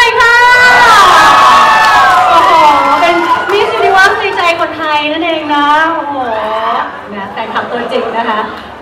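Fans at a Uniqlo fashion show shout and cheer for Namtan, a loud crowd of mostly high, excited voices whooping and screaming together nearby, rising and falling over several seconds.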